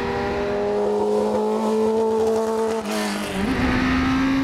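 A 1982 Williams FW08 Formula One car with a Cosworth engine driving at Silverstone, its engine a loud continuous high-pitched drone that holds steady, dips briefly and then climbs in pitch as it revs up, near and alone.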